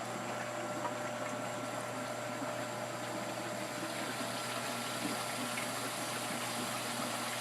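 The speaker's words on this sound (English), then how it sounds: "Shower started again." A pond's shower-style water feature runs steadily, giving an even, continuous hiss of falling spray with no talking over it.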